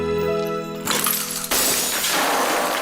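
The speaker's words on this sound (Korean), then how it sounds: "자기네 집보다 비싼 샹들리에를 박살내고 맙니다" An expensive chandelier smashes: two sharp bursts of breaking glass cut in after a sustained tone, followed by scattered crashing and tinkling debris.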